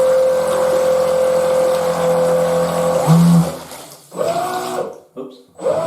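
A boat's water-jet engine runs at its absolute minimum throttle with a steady, close drone, then cuts out and sputters in uneven bursts toward the end; a voice is heard over it.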